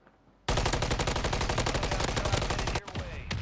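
Rapid automatic gunfire in a video game, a dense loud burst of shots running for over two seconds, then a brief pause before firing resumes.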